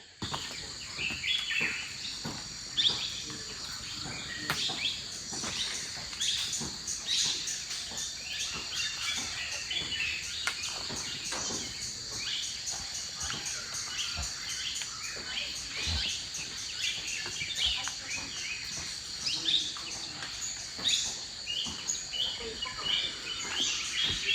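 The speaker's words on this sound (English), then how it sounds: "So many birds are chirping all around." Morning forest ambience near Kabini at around 6:30, with many birds chirping and calling all around over a constant high insect drone, scattered near and far, with no talk.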